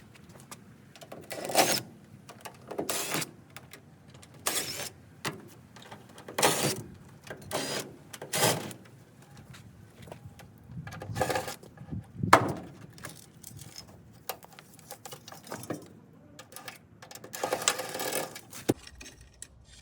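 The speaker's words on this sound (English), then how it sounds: "now let's go ahead and pull this junk out and throw it away and pull this carpet out" Old carpet and junk pulled from a deteriorated 50-year-old Ford F-250 cab: repeated sharp scraping, crinkling and thudding bursts at irregular intervals, close and fairly loud, with quiet pauses between.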